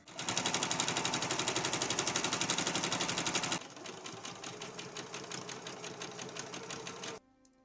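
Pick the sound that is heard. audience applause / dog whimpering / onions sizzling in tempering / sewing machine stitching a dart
sewing machine stitching a dart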